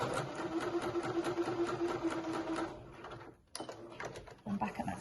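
A sewing machine runs steadily, stitching rows of gathering stitches on an Indigo dress, with a rapid even whir for about three seconds before slowing, stopping and briefly restarting in short bursts.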